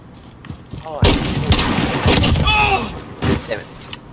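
Dragunov sniper rifle shots in Call of Duty ring out as a few sharp, loud bursts over about two seconds, with voices talking between and after them.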